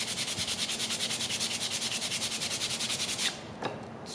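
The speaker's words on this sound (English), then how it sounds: "grab my sandpaper and just sand these down just a little bit" Sandpaper rubs back and forth over wooden spindle inserts for a table in a steady, rapid rhythm of close strokes, stopping near the end with a couple of light taps.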